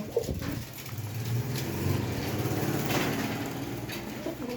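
Pigeons at a bird market cooing softly under a noisy outdoor background, with low murmured calls spread through the clip and some faint voices nearby.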